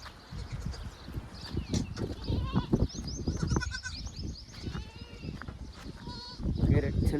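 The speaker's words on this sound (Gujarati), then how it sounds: "એ અમારા ગાંડા બકરા" Goats bleat repeatedly in wavering, nearby cries among other livestock, overlapping with people talking and scattered movement noises.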